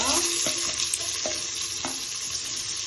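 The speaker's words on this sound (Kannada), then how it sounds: "ಎರಡು ಈರುಳ್ಳಿ ಇದು ಸ್ವಲ್ಪ ಬ್ರೌನ್ ಕಲರ್ ಬರುವವರೆಗೂ ಫ್ರೈ ಮಾಡಿ" Onions fry in hot oil with whole spices such as bay leaf, clove, cinnamon and pepper, giving a dense, continuous sizzle close up, with a few faint stirring taps.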